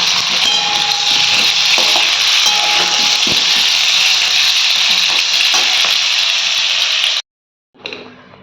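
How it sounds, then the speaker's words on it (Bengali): Capsicum and potatoes stir-fry in hot oil in a home kitchen. A loud, dense, close sizzle runs steadily with occasional utensil clicks, then cuts out abruptly before a brief faint return at the end. "আলুর সঙ্গে ক্যাপসিকামটা হালকা করে নেড়ে আগে তুলে নেবো তারপর আলুটা একটু লাল লাল করে ভাজবো"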